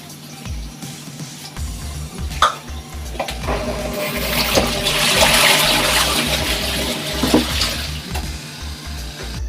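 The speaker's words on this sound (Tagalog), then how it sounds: "So now guys, lalabhan na po natin siya sa washing." A washing machine churns secondhand ukay-ukay clothes in fresh detergent, giving a steady watery sloshing and swishing that rises and falls. Occasional clunks break up the flow, and no voices are heard.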